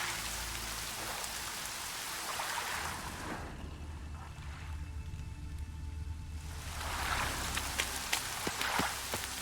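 Rain in the video game The Witcher 3: Wild Hunt patters and hisses steadily, fading briefly in the middle and then returning, with a faint low rumble underneath.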